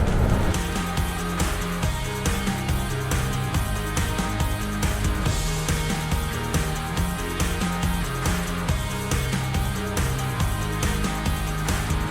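Steady road traffic on a highway beside the rider, a continuous loud engine and tyre roar with passing-vehicle swells, no talk over it.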